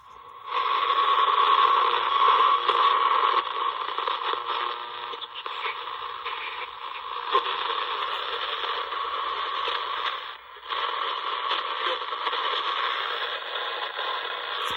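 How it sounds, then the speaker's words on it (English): A 1960s OMGS radio on a workbench, just reassembled, picks up interference as loud, steady static hiss with a buzzing edge. It runs continuously, with a brief dip near the end and no voices. "It's picking up my camera noise and probably all kinds of other stuff on the bench."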